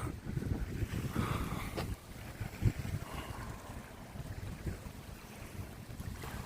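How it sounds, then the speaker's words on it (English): Wind buffeting a phone's microphone outdoors, a steady low rumbling roar with gusty swells and no speech. "No doubt you can hear the wind whistling past the phone right now"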